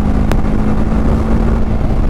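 A 2024 TVS Apache RTR 310 motorcycle ridden along a rough road gives a loud, steady engine drone mixed with constant wind rush, with no change in pace.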